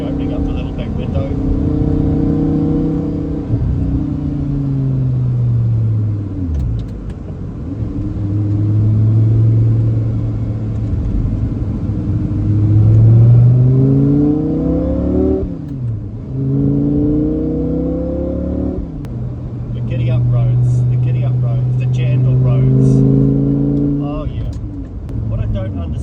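An Audi R8 engine on twisty roads rises and falls through repeated revs and gear changes, its loud rumble sweeping up and dropping back as the car takes the bends, with a voice speaking over it at times.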